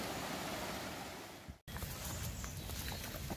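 A flooded river that has burst its banks rushes in a steady, loud broadband roar, broken by a brief dropout before the torrent continues.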